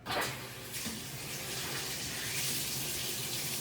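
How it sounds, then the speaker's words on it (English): Lukewarm water runs steadily in a bathroom shower, rinsing skin, a continuous broadband hiss and splash at close range with no talk over it. "rinse skin thoroughly with lukewarm water in the shower"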